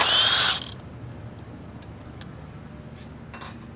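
A ratchet wrench with a 13 mm socket works loose the starter bolts: a short, loud burst of ratcheting at the start, then a few faint, sparse clicks against a quiet background.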